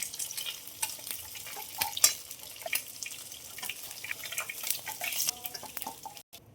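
Featherback fish pieces frying in hot oil in a home kitchen as they are lifted out: continuous crackling sizzle with scattered sharp clinks and scrapes of a utensil against the pan.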